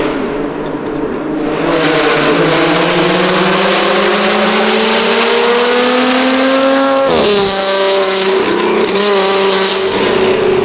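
A lowered Audi Q7 with its exhaust valves open roars past on a mountain road, the engine note climbing as it revs, then dropping sharply as it passes and echoes off the slopes, loud throughout.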